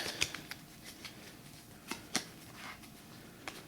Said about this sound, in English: I need to shuffle that into the deck and get a new hand